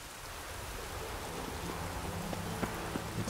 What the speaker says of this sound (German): Immer wieder Regen.